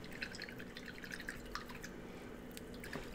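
Water splashing and dripping as a paintbrush is rinsed in a pot after painting a Warhammer 40k miniature with Citadel contrast paints, a brief wet patter close up.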